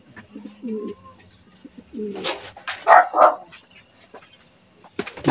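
A racing pigeon coos in short soft bursts close by, with scattered handling noises and a louder rustle near the end.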